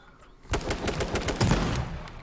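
Video game gunfire bursts in abruptly after a quiet moment, a loud, close run of rapid shots cracking in quick succession for under two seconds.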